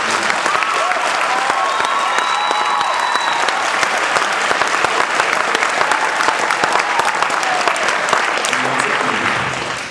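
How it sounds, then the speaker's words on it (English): A school audience gives sustained, dense applause after a children's musical show, a steady wash of many hands clapping at close range throughout with no speech over it. "So how about one more round of applause?"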